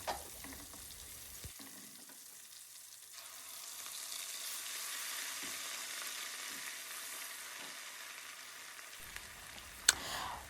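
Garlic, ginger, onions, bay leaves, curry powder and thyme stir-fried in oil for party jollof rice, a steady hissing sizzle with soft scraping stirs, a brief quiet dip at the start and a sharp clink near the end.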